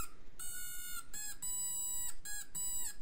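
Bright electronic beeping tones from a Drawdio musical pencil circuit in short bursts with brief gaps between them, loud and close, shifting pitch slightly from burst to burst.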